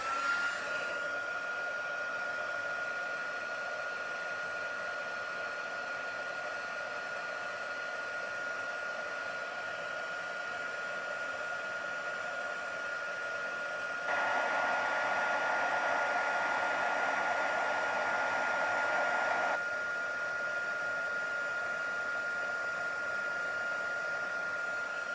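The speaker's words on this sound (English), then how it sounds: "with my heat tool." A heat tool used for heat embossing blows with a steady, loud whooshing hum, briefly louder in the middle, continuous and alone with no talk.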